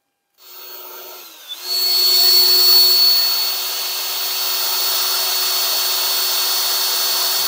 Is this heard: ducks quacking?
no